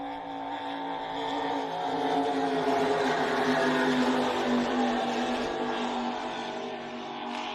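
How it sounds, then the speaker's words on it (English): A Supercat Extreme race boat engine bouncing off its rev limiter down the front straightaway at a Lake Macquarie powerboat race, a loud continuous high-pitched buzzing drone with a steady tone that swells slightly in the middle. "As you can hear it bouncing off the rev limiter down that front straightaway."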